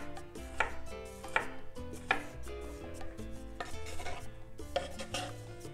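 A knife chops cucumber into thin strips on a board, a quick run of close, sharp taps with a few louder strikes, steady and unaccompanied by speech.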